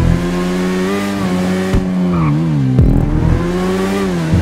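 The Shotaro, a fast motorbike in the GTA V racing game, roars at high revs with a steady engine whine that rises and falls through gear changes. It stays loud and close for the whole stretch, with no talking.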